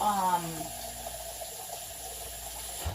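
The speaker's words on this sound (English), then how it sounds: "just want to get that rinsed right away so it doesn't stick up my pot" Tap water runs steadily into a cooking pot being rinsed in a sink, a close continuous splashing flow that holds for the whole moment.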